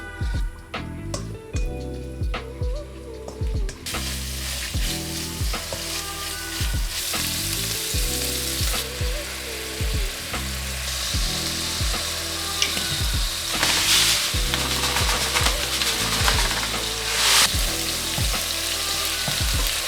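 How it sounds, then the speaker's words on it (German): Loud, crackling sizzle of Chinese stuffed pepper dumplings with minced meat frying in hot oil, close by, with repeated clinks and scrapes of stirring throughout. "Wir kochen mit Öl."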